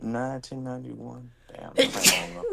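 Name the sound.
sneeze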